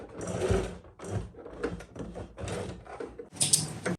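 A domestic sewing machine labours through thick layered fabric while sewing bias-bound halterneck straps, its motor chugging in uneven bursts with brief pauses between, close and moderately loud.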